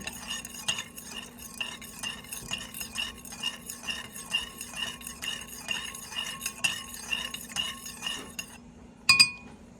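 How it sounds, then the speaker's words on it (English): A spoon stirs jello mix into hot water, clinking rapidly and rhythmically against the side of a glass or bowl for several seconds before a final louder clink. "just stir it like you're making jello till all that is dissolved"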